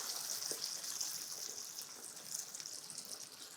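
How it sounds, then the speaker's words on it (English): Cider poured steadily into a pot for braising pork shank, a continuous close splashing hiss of liquid running without pause. "In goes our cider."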